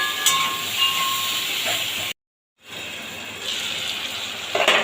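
Vegetables and bata fish sizzle and hiss steadily while being sautéed in a pan, with a continuous bright frying crackle that cuts out briefly and then resumes.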